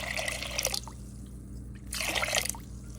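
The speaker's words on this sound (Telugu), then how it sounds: "ఇప్పుడు ఈ కందిపప్పులో కొంచెం పప్పు ఉడకాలి కదా, వాటర్ వేస్తున్నాను చూడండి" Water is poured into red lentils and tomato in a cooking pot in two close, splashy pours with a short pause between them, with no talk over it.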